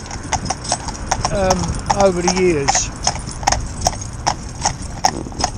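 Gelderlander horses work as a pair in training, their hooves clip-clopping in a steady, close rhythm while a horse whinnies and a person talks over the hoofbeats.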